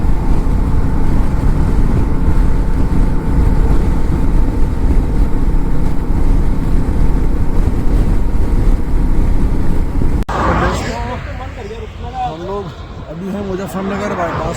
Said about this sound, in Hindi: एकदम मज़ा आ रहा है बाइक चलाने में।